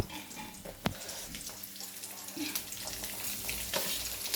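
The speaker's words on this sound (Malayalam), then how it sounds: "ഇതെല്ലാം കൂടെ ചട്ടിയിലിട്ട് നന്നായിട്ട് കടുക് പൊട്ടി മൂത്ത് വന്നു അതിന് ശേഷം നമുക്ക് ഈ വെണ്ടയ്ക്ക അതിലേക്ക് ഇട്ട് കൊടുക്കാം" Okra drops into a hot pan of crackling mustard seeds and curry leaves in coconut oil, a sharp clatter followed by loud, continuous frying sizzle with stirring scrapes, close and without talk.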